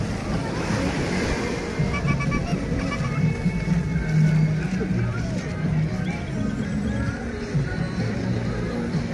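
Sea waves wash steadily onto Condesa beach in January, a continuous loud rumbling surf with swells rising and falling, while someone talks over it.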